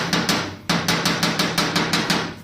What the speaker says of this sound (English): came in with a old ball peen hammer